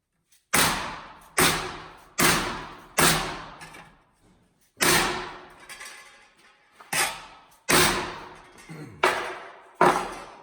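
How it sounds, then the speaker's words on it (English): Repeated heavy dead blow hammer blows shaping sheet metal for a Plymouth Fury trunk repair, about ten sharp thuds at an uneven pace with short ringing decays, close by and loud. "stick it over the top of this, dead blow hammer."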